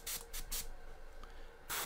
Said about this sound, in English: And then I can spray it as normal.